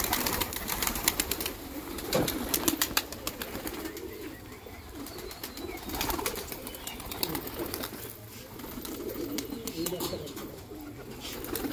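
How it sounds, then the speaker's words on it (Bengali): A big flock of pigeons at a rural loft in Nakashipara, Nadia, gives soft, overlapping coos under constant outdoor noise, with brief rustles like flapping wings and no clear speech. "কত পায়রা দেখুন।"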